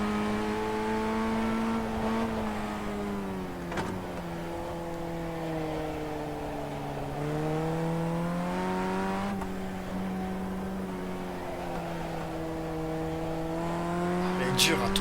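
A race car in the iRacing sim game drones steadily with shifting engine pitch, rising and falling through corners, a continuous mid-level whine that runs throughout under faint background sound.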